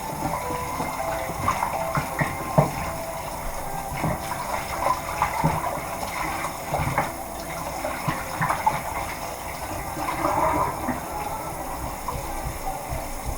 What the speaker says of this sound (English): And I'm just going to swoosh my chicken around, shake it up a little bit, swoosh it and shake it.